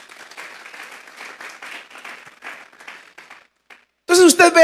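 In a church service, a congregation claps for the Lord in moderate applause that thins and fades out, then a voice begins talking loudly and close.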